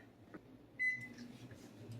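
A microwave oven heats a bowl of pie filling, its low steady hum running alone with a brief sharp tone partway through.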